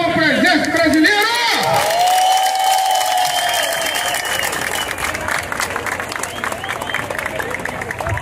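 Street demonstration crowd in downtown Rio de Janeiro bursting into sustained applause and cheering with whoops, loud and continuous, while a voice on a loudspeaker talks over it at the start.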